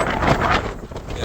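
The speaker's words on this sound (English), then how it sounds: "But it's very windy at the moment." Steady, broadband roar of strong wind buffeting the microphone while cycling in Japan, loud and continuous with slight surges throughout.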